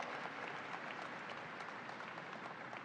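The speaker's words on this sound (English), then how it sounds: "let's give a round of applause for men and women of labor" Sustained applause from a crowd at the New York State Fair for labor union members, a dense, steady patter of many hands clapping throughout, filling the space evenly without any voices rising above it.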